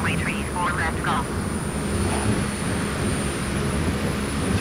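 Pilatus PC-6 turboprop taxiing in Microsoft Flight Simulator 2020, a steady, loud engine drone with a constant high whine, continuous and unchanging throughout, with faint radio-style voice chatter at the start.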